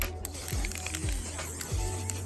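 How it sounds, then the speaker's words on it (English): Sun cream spray hisses onto skin outdoors in short bursts, three quick sprays in a row, close and fairly soft. "it feels like when you're spraying it on that it's not doing anything"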